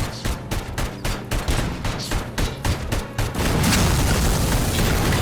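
Gunfire from the RoboCop: Rogue City video game: a string of sharp, evenly spaced shots rings out loud for about three seconds, then gives way to a sustained roaring rumble like an explosion or collapse.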